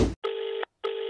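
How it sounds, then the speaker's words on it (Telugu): A telephone rings with two bursts of an electronic ring tone separated by short silences, even and fairly close, with no voices over it. "ఫోన్ లేపరా సామే"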